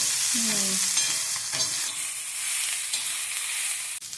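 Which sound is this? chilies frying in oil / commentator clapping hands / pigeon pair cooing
chilies frying in oil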